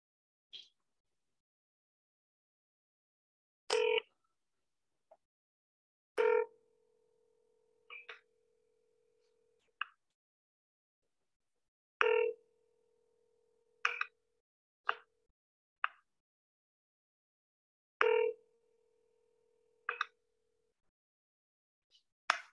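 Outgoing call to a cell phone ringing on the line, repeated ringback tones at steady intervals separated by silence, with brief clicks between, no talk.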